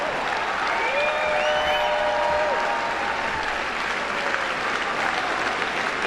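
A political rally crowd cheers and applauds continuously, loud and dense throughout, with a few whistle-like cheers rising above the steady roar.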